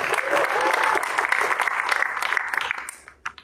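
Audience at a stand-up comedy audition showcase claps loudly, then the applause thins out and fades away near the end with a few scattered claps and some voices.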